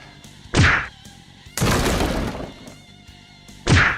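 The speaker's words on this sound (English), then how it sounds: "The pool cue smashing against the wall snaps James out of his anger." A pool cue smashes against a wall in a dramatized scene, with two sharp loud whacks separated by a longer crashing, rattling burst between them, close and with no talking.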